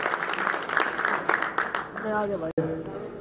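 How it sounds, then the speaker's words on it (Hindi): Crowd applause at a farmers' fair, a lively burst of clapping for the farmers that fades after a couple of seconds as a voice takes over, with a brief dropout near the end. "तालियां बजाता हूं।"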